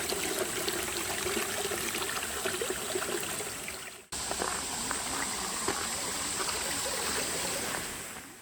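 Jogok waterfall at Mungyeong Saejae pours in a dense, continuous roar of rushing water heard close up, steady and loud throughout apart from one brief cut, with no speech.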